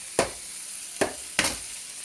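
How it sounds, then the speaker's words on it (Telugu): Drumstick leaves sizzle and fry with onions in a pan, three sharp bursts of hissing as the leaves are stirred, with a steady background sizzle between them. "ఇప్పుడు ఈ ఆకుకూర ఉంది కదా, మనం చేసి పెట్టుకున్న ఆకుకూర ఇందులో వేసేయండి."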